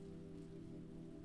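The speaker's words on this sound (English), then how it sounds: "Outside the window, the rain intensifies for a moment, then eases again into a gentle patter." Rain patters steadily outside a window, a soft, even, continuous wash of drops heard faintly from indoors.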